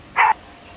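A single short, sharp bark from a large Belgian Malinois, loud and close, then quiet.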